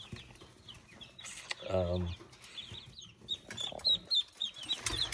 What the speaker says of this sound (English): So the baby chicks are in here getting to know them.